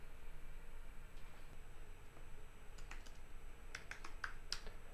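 A handful of quick, light keystrokes on a computer keyboard, typing a short command at a terminal. The clicks come in a small cluster toward the end over a quiet, steady background hum.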